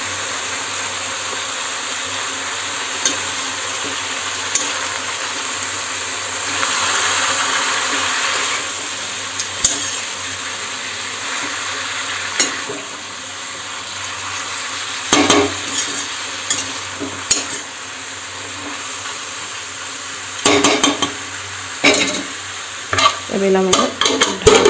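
Vegetables frying in a kadhai, loud and close: a continuous hissing sizzle with scraping spoon strokes that grow busier and more clattering toward the end, and a brief voice barely audible.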